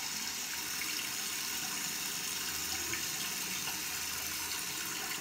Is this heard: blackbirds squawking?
no